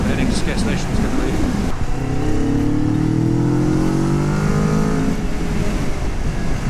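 A Kawasaki Vulcan S motorcycle accelerates to pass on a road trip around Kaikoura, its engine note climbing steadily for several seconds under constant loud wind rush before easing off.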